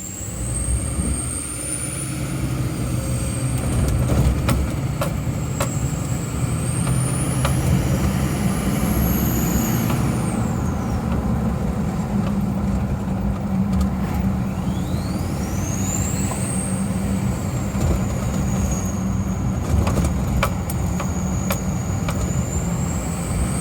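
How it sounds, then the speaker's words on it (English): An LBZ Duramax diesel pickup with a 9-blade stainless turbo and stock cat and muffler idles and revs, a steady low rumble under a rising and falling high turbo whistle. "You can still hear the turbo, but you hear it from up in the engine bay, not so much through the exhaust, with a stock exhaust on it."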